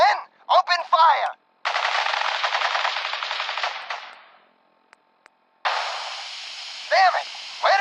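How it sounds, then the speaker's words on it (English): Rapid automatic gunfire from a Fallout 4 firefight, loud, dense bursts lasting several seconds, then a pause with faint clicks before a second sustained volley; brief shouted voices come before the shooting and return near the end. "Stop or we'll shoot! Men, open fire!"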